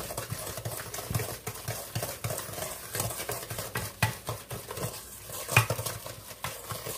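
Irregular clinking and scraping of a utensil against a bowl while mixing cookie dough by hand, steady stirring with occasional sharper knocks, close by.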